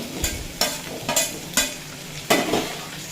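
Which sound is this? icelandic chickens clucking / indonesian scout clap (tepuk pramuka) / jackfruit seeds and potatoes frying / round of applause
jackfruit seeds and potatoes frying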